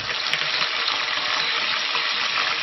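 Pickled cabbage leaves with salt and diced pickled chilies stir-fry in a hot wok, a dense, loud, continuous sizzle with no talk.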